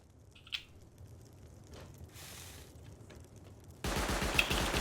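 An automated turret fires in the game Rust as a rapid, faint burst of gunfire that turns into a louder, denser volley over the last second.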